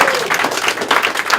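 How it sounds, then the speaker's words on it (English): Dense applause from a stand-up comedy crowd at a club in Antwerp, many hands blurring into a steady wash of clapping, moderately loud and continuous for a brief stretch. "So, round of applause for him."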